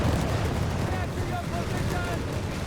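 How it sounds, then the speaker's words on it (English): Mortar fire from a Company of Heroes 3 match, heard as a dense, continuous low battlefield rumble with muffled blasts blending into steady background din. "Mortar there blasting away, maintaining close proximity to the medic bunker."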